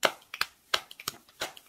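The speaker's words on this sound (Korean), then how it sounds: "그럼 박수 좀 이렇게 해보자." A few sharp hand claps in irregular bursts, close and crisp, with short pauses between groups of two or three claps.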